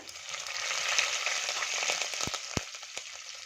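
Cumin seeds and curry leaves sizzle and crackle in hot oil for dal khichadi, a steady close frying hiss with a few sharp pops near the end and no voices.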